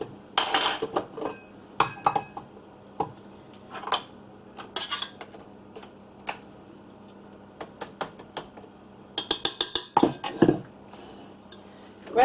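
A mixing bowl being handled while flour is added for a Victoria sponge, a scattered series of close clinks, knocks and scrapes of bowl and utensils, busiest toward the end, with a faint background hum.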